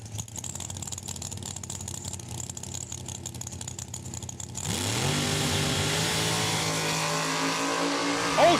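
A 1969 Camaro launches down a drag strip at Saskatchewan International Raceway, a loud engine roaring and rising sharply in pitch as the car accelerates away after a brief stretch of idle burble.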